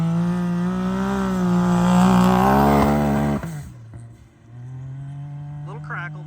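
Nitrous-powered Can-Am X3 side-by-side engine revving up with a rising, jet-like whine, loud and sustained for a few seconds, then dropping to a lower steady idle hum while someone talks.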